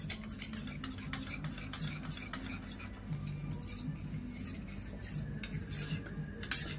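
A spoon stirs milk into a sugar mixture in a bowl in a home kitchen, scraping and clinking steadily against the sides in a continuous, close rhythm.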